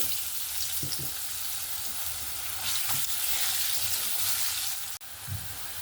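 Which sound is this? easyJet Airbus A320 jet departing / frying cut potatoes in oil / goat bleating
frying cut potatoes in oil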